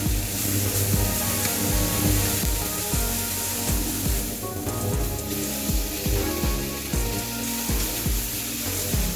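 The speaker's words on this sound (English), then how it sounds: "And make sure you take turns to fry on both sides, otherwise one side then will be burned" Vermicelli chow mein with chicken frying in a pan, a steady close sizzle with repeated scraping and stirring strokes against the pan, no talking.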